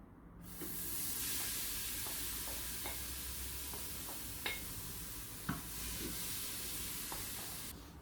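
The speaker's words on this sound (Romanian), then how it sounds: "Am pus legumele, acum le amestec un pic până pun carnea." Vegetables sizzle steadily in a preheated Tefal One Pot pressure cooker while being stirred, a continuous frying hiss broken by a few scraping clicks of the spoon, close and moderately loud throughout.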